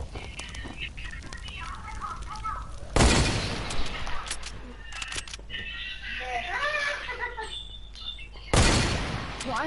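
Two loud, sharp sniper rifle shots in a video game, a few seconds apart, with bursts of gunfire and ambient game sounds between them under steady talk from players.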